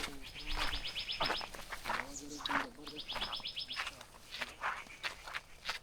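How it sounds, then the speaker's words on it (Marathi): Birds chirp at the edge of a hill during the monsoon in quick repeated trills, two bursts of rapid tweets standing out, with scattered calls, footsteps and faint rustling around them. "पक्ष्यांचे आवाज येतात तुम्ही ऐका फक्त"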